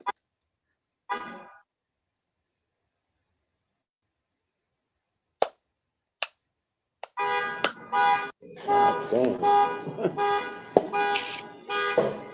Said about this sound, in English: Someone's car alarm going off.